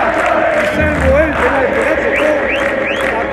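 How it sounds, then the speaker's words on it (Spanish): Fans in the stands applaud at a Ferro vs Nueva Chicago football match. A steady wash of clapping and crowd noise carries on beneath a commentator's voice. "Aplausos de la platea"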